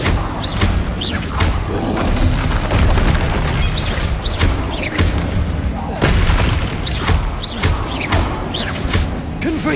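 Confringo fire spells explode over and over in a Hogwarts Legacy battle against a troll, heavy booming blasts layered over continuous loud combat noise, with a voice calling out spells.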